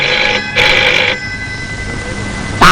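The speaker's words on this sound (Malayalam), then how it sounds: "നേരം വിളിച്ചില്ല അപ്പോഴേക്ക് ഫോൺ കളി തുടങ്ങി." A telephone bell rings in a 1994 Malayalam drama scene, a short burst of bright ringing roughly from half a second to just past one second, loud and close over a quiet room tone.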